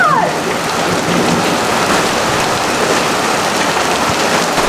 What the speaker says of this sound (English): Dude, look how hard it's raining.